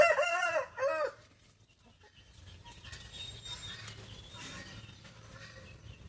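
A rooster crows once at the start, loud and close, then fades into quiet rustling and faint background clucking.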